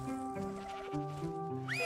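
A sheep bleats in ARK: Survival Evolved with the Parados mod, a Wicked-species animal. Its calls rise over a steady layer of in-game music and ambience, with one sharper rising cry near the end.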